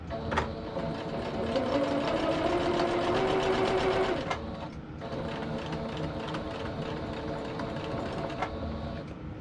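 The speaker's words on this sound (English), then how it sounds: "a 1/4 inch seam, and I will be chain stitching all of these together" A sewing machine chain-stitching quarter-inch seams on quilt pinwheel blocks runs in a steady fast whir, close and loud, with a brief pause midway before stitching resumes.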